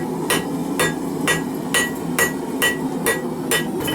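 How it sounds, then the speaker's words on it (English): Steady hammer blows on hot steel as the tip of a knife blade forged from a ball bearing is drawn out, about nine sharp ringing strikes in an even rhythm, close and loud over a low forge hum. "Okay, so we're going to start forging in the tip."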